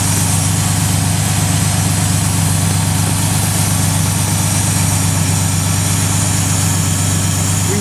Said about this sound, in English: We do have a respectable idle.